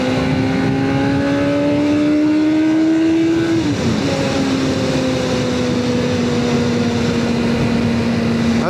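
A 1999 Suzuki SRAD 600 motorcycle engine pulling hard, its loud steady whine rising in pitch through a gear, dropping briefly at a shift, then holding a sustained drone, close and constant.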